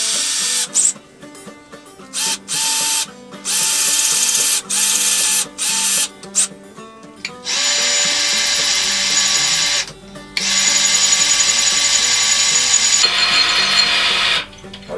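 An electric drill bores a screw hole in a syrup can banjo, probably stainless steel, in a run of short whining bursts with pauses between, followed by longer steady stretches of loud drilling.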